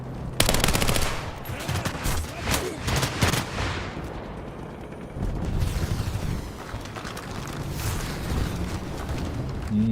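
Rapid bursts of gunfire from a BTR-3E1 in a video game infantry test, loud and dense at first, then easing into scattered shots and rumbling booms.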